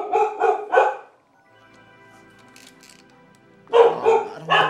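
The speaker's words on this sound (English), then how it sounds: "I don't know why the dog's barking." A dog barks loudly and close by, three sharp barks, then a quiet stretch before another burst of several barks, with no talking over them.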